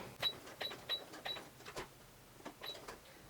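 A sewing machine stitches a buttonhole in short bursts of quiet rapid clicks and whirs, with small mechanical ticks between the bursts, close and faint.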